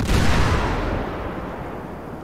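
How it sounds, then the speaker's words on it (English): A grenade explodes in the video game GTA 5: a sudden loud, broadband blast that rolls on as a long, dense rumble, fading slowly over about two seconds. "there's a grenade that's gone off"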